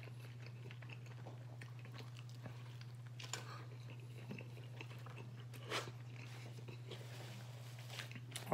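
Crunchy bites and wet chewing on homemade Mexican pizza in the style of a Taco Bell copycat, with soft crunches and mouth sounds scattered over a steady low hum, close to the mic with no talk.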